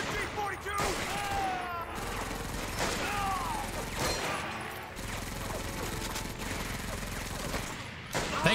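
Continuous machine gun fire and scattered shots in the video game Medal of Honor: Vanguard, a dense, steady barrage throughout with speech-like voices mixed in.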